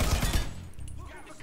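A brief close burst of gunfire in Mafia 3, loud at the start and quickly trailing off into quieter background noise.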